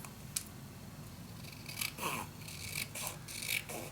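Scissors snip through paper while a scrapbook mini album is being made, several short crisp cuts at close range in a quiet room with no one talking.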